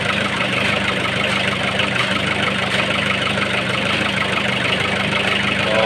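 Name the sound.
Nissan CD17 diesel engine running after being started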